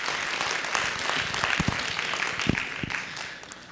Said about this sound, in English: give a round of applause to all the performers